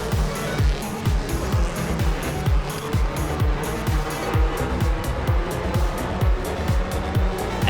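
Late model stock cars race at Kingsport Speedway, engines roaring loud and continuous as cars sweep past one after another in a steady rhythmic series of rising and falling passes.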